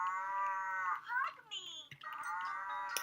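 A plush toy cow with a plastic ring around its body, switched on, plays an electronic moo: sustained buzzy tones with a swooping pitch bend partway through, close and fairly loud, with no talking.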